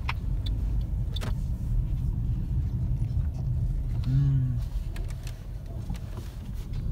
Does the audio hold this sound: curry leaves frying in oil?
no